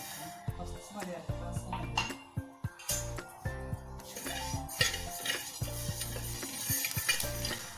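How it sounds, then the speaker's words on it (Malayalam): Rice roasting in a pan is stirred with a metal spoon, giving repeated scraping clinks and knocks against the pan in an uneven rhythm over a soft frying sizzle, close and fairly quiet. "അരി നല്ലപോലെ പൊരിഞ്ഞ് വന്നിട്ടുണ്ട്."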